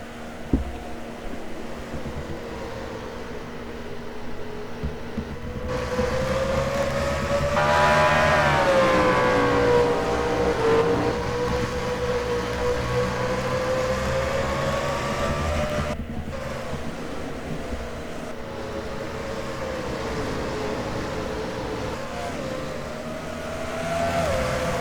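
MG Cup race cars race at Bristol, their engines droning and rising in pitch as a pack passes close by and then fades, with a steady mechanical roar throughout and no talk.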